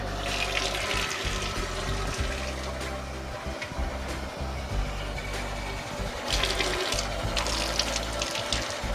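Tap water runs into a glass jar of sprouting seeds for rinsing, a steady splashing pour with brief sloshing surges as the jar fills and is shaken.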